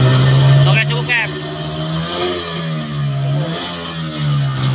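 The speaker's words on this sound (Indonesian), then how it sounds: "Start engine untuk motor tempel yang 30 PK ya" A 30 hp outboard boat motor revs on a beach, its steady engine tone holding loud and close for several seconds with brief pitch rises, while people talk over it.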